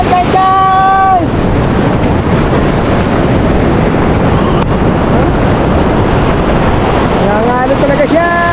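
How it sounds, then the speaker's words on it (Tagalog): Loud, continuous roar of strong ocean surf crashing at a beach campsite amid wind-battered water, with shouting voices at the start and end rising over the rush. "Grabe ang alon!"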